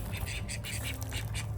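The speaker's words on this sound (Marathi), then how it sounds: "इथे आहे डक्स." Several ducks quack near a pond by a house at a camper-van stay in the USA. The quacks come in a quick series of close, loud bursts, with faint background murmur beneath.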